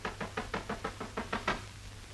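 Knocking on a door in a 1949 Hindi film, a rapid run of about nine sharp, evenly spaced raps that stop abruptly.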